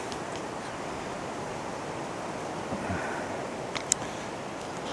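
Wind blowing hard on the Dorset coast, a steady rushing roar buffeting the microphone, with faint surf-like texture and a few brief knocks.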